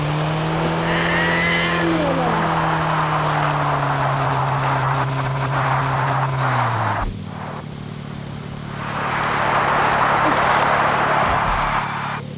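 A car engine strains hard and close for about seven seconds, its pitch holding steady as it climbs the slope, then it drops off abruptly and a rougher, noisier rumble with gravelly road roar swells again near the end.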